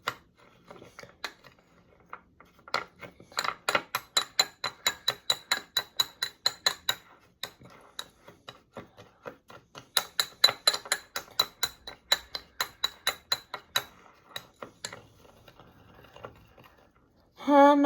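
Dry ingredients for bread laddoos stirred in a bowl, making rapid, light clinks in rhythmic bursts separated by short quiet gaps, close and fairly soft.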